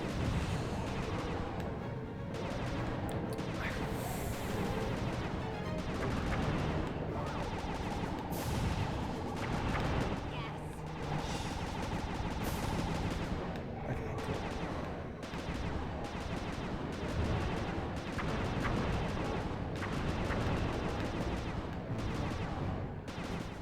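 Gunfire during a boss fight in Sly 2: Band of Thieves, repeated shots and crashing bursts over busy game sound and music, fairly steady throughout.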